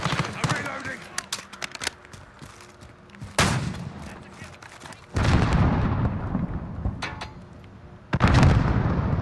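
Video game gunfire from a Ram 7 rifle in a shooter match, with loud bursts of shots and booming impacts in irregular clusters, and players talking over the action.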